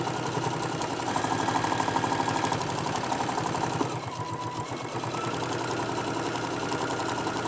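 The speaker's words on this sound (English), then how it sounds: "I'm going to go sew it down the next side" A sewing machine runs steadily as it stitches a fabric Christmas hot pad with Santa print, a continuous close mechanical whir with rapid needle rhythm that dips briefly midway before carrying on.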